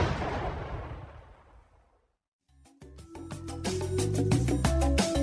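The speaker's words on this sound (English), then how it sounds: "Love hearing that explosion. That vacuum just is a bomb." Explosion sound effect standing in for a vacuum cleaner being switched on, a loud blast fading into silence, followed by music.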